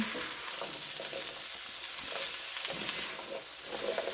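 Potatoes fry in olive oil for a sausage, egg and potato breakfast casserole, giving a steady close sizzle with faint stirring scrapes throughout, no voices.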